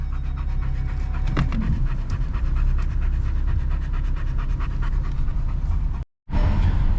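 Close, rapid dog panting in a steady rhythm, continuous breathy huffs with a low background rumble and a brief cut to silence near the end.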